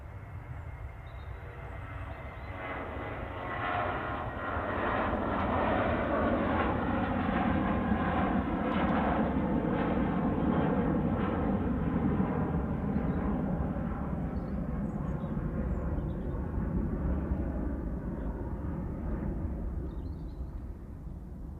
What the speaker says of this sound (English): Oh, it's a Cessna 172